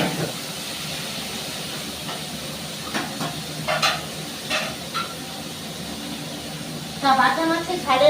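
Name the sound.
fish frying and sizzling in a pan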